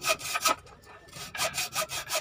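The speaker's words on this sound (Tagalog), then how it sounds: "Kung wala tayong pang putol na iba, di lagari lang." A hand saw cuts through wood in quick back-and-forth strokes, a close rasping rhythm of about eight strokes with a short pause partway through.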